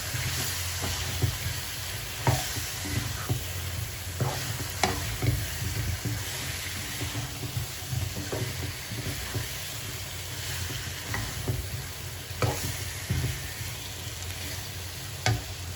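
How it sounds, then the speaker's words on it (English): A spoon stirs coriander powder and spices into chicken masala frying in a pan, giving a steady near sizzle with scattered scraping clicks from the spoon throughout, and no voices. "Give it a good mix."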